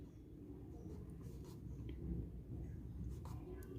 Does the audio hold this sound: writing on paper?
yes